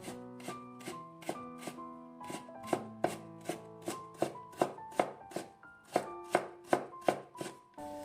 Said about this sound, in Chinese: 再准备1根去皮的胡萝卜，同样切成薄片